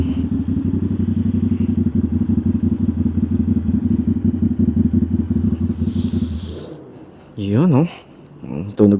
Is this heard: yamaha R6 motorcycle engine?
yes